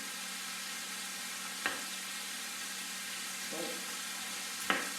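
Steady, quiet sizzle of onion frying in oil, with a few brief clinks and stirring noises over the hiss.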